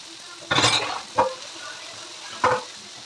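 Vegetables are sautéed in a pan for sambar: a faint background sizzle broken by three bursts of spoon-scraping and stirring against the pan.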